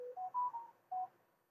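A tablet's alert chime: a few short, quiet electronic tones stepping upward, a brief pause, then one more tone, with no talking.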